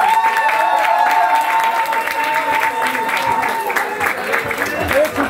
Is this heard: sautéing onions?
no